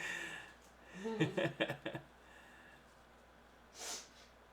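A quick run of wet nasal sniffs close to the mic, followed by a softer breathy sniff a few seconds later, with no talking.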